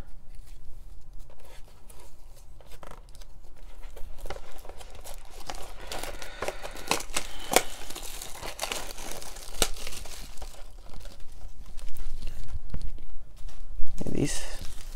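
Steady crinkling and tearing of plastic wrappers on 2020 Topps Baseball Series 1 card packs, close up, with irregular rustles and crackles throughout.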